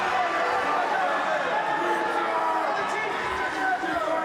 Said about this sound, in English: and the crowd erupting there.